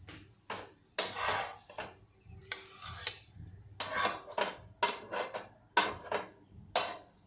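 A cooked cauliflower paratha lifted from the pan onto a plate, with repeated sharp clinks and clatters of dishes and utensils coming in close, uneven bursts.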